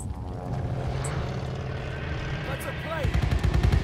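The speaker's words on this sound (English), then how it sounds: "That's a plane." A plane flies overhead in the Call of Duty Vanguard video game, a steady droning engine rumble that swells louder toward the end beneath game music and effects, with voices talking over it.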